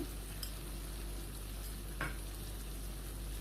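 Spice masala frying in a pan for a soybean curry, a steady low sizzle with soft stirring scrapes and one brief louder scrape near the middle, close and quiet, no voices.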